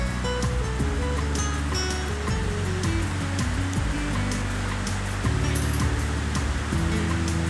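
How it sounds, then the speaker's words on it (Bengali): Heavy rain pours steadily outside a home kitchen where palm-fruit pitha is being made, a loud, unbroken wash of hiss and roar with low tonal music sitting underneath throughout. "এই সময়টা প্রচণ্ড বৃষ্টি হচ্ছে, সেই জন্য একটা এক্সট্রা আওয়াজ কিন্তু এখানে চলে এসছে"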